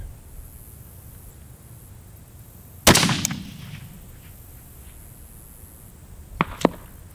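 A single long-range rifle shot cracks sharply and loud, its report rolling away in a decaying echo over quiet outdoor hiss, followed a few seconds later by two faint distant knocks.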